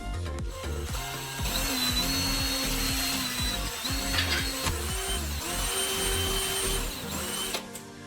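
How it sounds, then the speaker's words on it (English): A power drill bores a hole through the center of a clean metal bottle cap, with a steady whirring motor, rising and falling pitch, and scraping metal contact in short bursts, loud and close. "Take a clean bottle cap and drill a hole in the center."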